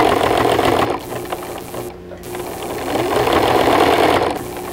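A sewing machine runs steadily as it stitches over a seam, a loud, even mechanical whir with a short pause near the middle and another near the end, and no voice over it.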